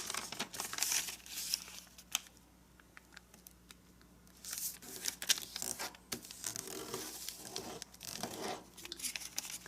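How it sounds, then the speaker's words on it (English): Soft crinkling and rustling of a paper sheet being folded into an origami labyrinth, close and quiet, with a brief lull in the middle before the crisp handling resumes. "And now let's fold this edge"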